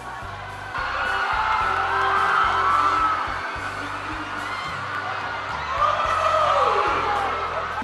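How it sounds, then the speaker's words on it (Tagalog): An excited crowd at a Sarah Geronimo appearance cheers, yells and whoops continuously, a dense wash of voices with rising shouts, loud and sustained throughout with occasional thumps beneath. "crowd is very much excited and we're so happy"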